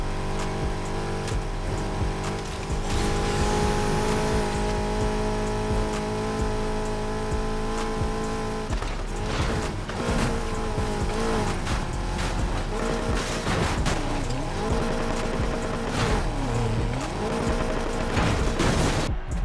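A race car engine roars in Need For Speed Heat, loud and sustained with shifting revs, gear changes and rising and falling pitch sweeps, over a busy game soundtrack with no talking.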